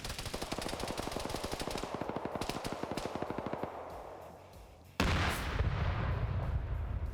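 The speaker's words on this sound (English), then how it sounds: "BMP-1 nails it with its 73 millimeter. Secondary shot goes in." Weapon fire from a BMP-1's 73 mm cannon in a multiplayer combat video game: a fast, loud run of repeated shots fades out, then a heavy impact boom lands and rumbles on.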